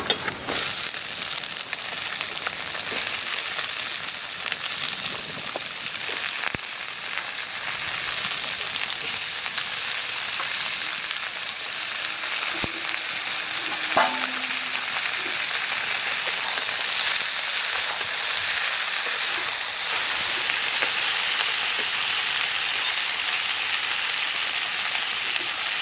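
Onions and pumpkin shoots frying in a pan, a dense continuous sizzle like steady rain that runs close and loud throughout, with an occasional faint tap of a utensil.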